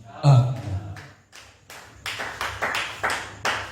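A church congregation clapping in a burst of applause, sharp claps bunched into uneven waves that start abruptly and keep going, close and fairly loud with a voice briefly over the start.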